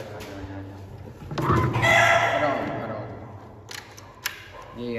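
Chickens and a rooster clucking and calling close by, with several short squawks and a sharp click, while people talk over them.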